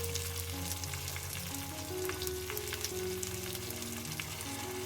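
Tomatoes fry in a pan for an Odia vegetarian thali, giving a steady, close, continuous sizzle with soft crackles throughout and no talking.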